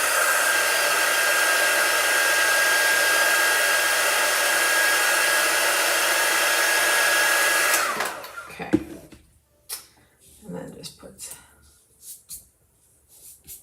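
A hair dryer blows loudly and continuously while drying chalk art on a pumpkin, then switches off, leaving scattered quiet handling noises.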